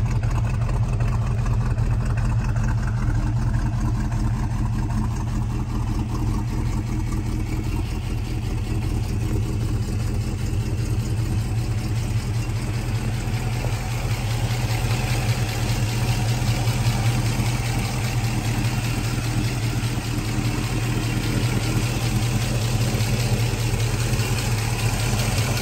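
A 1967 Shelby GT350 V8 with a four-speed and aftermarket exhaust and mufflers idles steadily, a deep continuous rumble heard close up and alone for the whole stretch.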